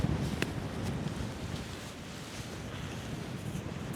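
Wind rushing past while paragliding near Bassano, a steady broadband roar buffeting the microphone with faint flutter, continuous and close throughout.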